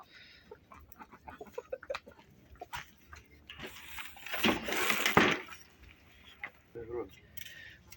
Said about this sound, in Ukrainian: Зразу Петруха дає прогон всім курам